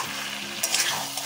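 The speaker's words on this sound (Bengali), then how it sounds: "আদাটা দিয়ে আমি একটু নাড়াচাড়া করে নিই" Mutton with ginger being stirred and fried in a pan at home, a steady close sizzle with scraping spoon strokes that get briefly louder partway through.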